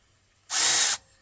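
A cordless hammer drill runs in one loud, steady burst of about half a second, then cuts off, with no talk over it.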